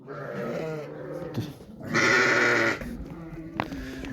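Sheep bleat repeatedly nearby in a pen, with a louder, sustained bleat in the middle and a few calls layered together.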